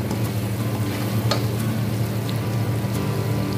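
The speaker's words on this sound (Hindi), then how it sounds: "अब हम मसाले डाल के इसको अच्छी तरह चिकन को भून लेंगे।" Chicken frying in a pan with biryani masala, chili powder and cumin, a steady close sizzle with crackling oil and occasional sharp pops, no voices over it.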